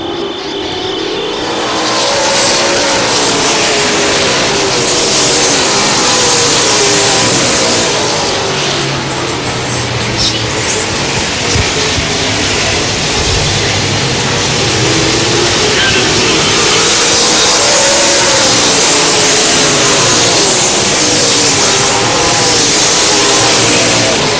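Stock cars in a super late model race roar around the track after the green flag, engines droning loud and continuous with rising and falling revs as the pack passes, under a commentator's voice.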